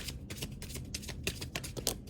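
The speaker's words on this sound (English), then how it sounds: "Let me do another good shuffle." Oracle cards are shuffled by hand, giving a quick run of soft, papery flicks and riffles that keep going steadily at close range.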